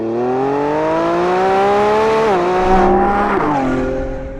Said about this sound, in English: you're just biding time until that hulking great V12 takes over